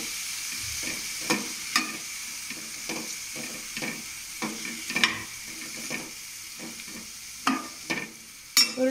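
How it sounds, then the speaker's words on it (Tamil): Ivy gourd (kovakkai) being sautéed in oil makes a continuous soft sizzle, broken by repeated scraping strokes of a spatula against the pan at an irregular pace, close up. "நல்லா வதக்கிக்கோங்க கோவக்காவை எண்ணெயோடு மிக்ஸ் ஆகிற மாதிரி."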